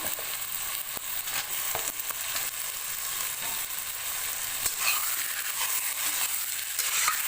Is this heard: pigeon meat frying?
yes